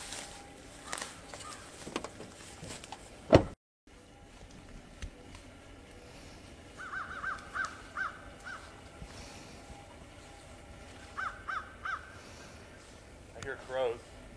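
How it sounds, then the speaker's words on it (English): Crows caw a few times in the distance over an outdoor background, with a sharp knock early on and scattered short calls. "Hear those crows?"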